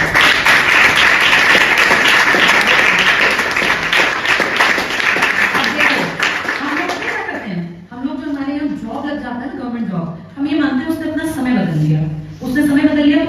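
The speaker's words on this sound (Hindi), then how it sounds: "इनके लिए तालियां बजाओ।" Sustained applause for a student in a class rattles for several seconds as a dense burst of clapping, then fades as a person begins speaking.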